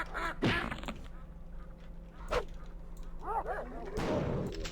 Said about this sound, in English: I still hear a duck somewhere.